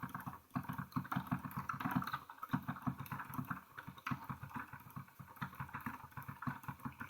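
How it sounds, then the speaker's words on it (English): Keys of a Yamaha DGX-640 digital keyboard clacking with the sound switched off while a Hanon scale exercise is played, a steady, fast, even run of close mechanical key taps and thumps. "Can't do it without the sound, but you can hear the keys."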